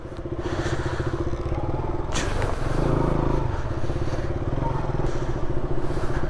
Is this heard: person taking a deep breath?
no